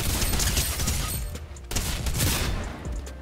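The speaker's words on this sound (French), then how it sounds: "Moi, ils m'ont tiré au-dessus." Rapid bursts of gunfire in Fortnite, dense close volleys that fill the whole moment, briefly dipping before another loud barrage resumes.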